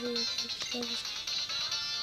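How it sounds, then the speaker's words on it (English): Xtransceiver ringing in a Pokémon video game: short electronic ringtone chirps repeat in a quick pattern over steady in-game background music, with no speech. "Next Transceiver is ringing."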